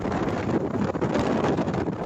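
Strong wind at sea off Busuanga, Palawan, during a boat capsizing rescue, heard as loud, steady gusty roaring and buffeting against the microphone, with no voices.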